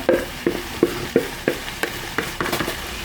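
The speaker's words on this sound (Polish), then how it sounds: "I dalej to wszystko smażymy." Onion, carrot, parsley root and bell pepper sizzle in a hot pan while a utensil stirs and scrapes in regular strokes, about one every third of a second.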